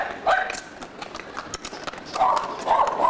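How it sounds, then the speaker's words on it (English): Horse hooves clip-clop along a street in the Dominican Republic, with a series of sharp, fairly close knocks mixed with people talking nearby. "Poor old horse."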